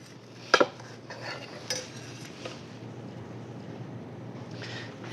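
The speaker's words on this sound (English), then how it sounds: "You make these and you cut them just like a pizza in slices." Crispy cheese frico being cut into pizza-style slices, heard as a couple of sharp crunchy cuts near the start and a smaller one shortly after, over a steady low hum of a quiet kitchen.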